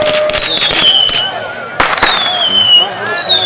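Fireworks and firecrackers burst in rapid, irregular cracks at a village patron-saint festival in San Pedro de Chilcayoc, with whistling rockets rising over the pops and a steady roar of crowd noise, all loud and close.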